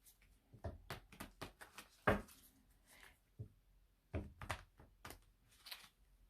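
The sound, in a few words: shuffling Moonology oracle card deck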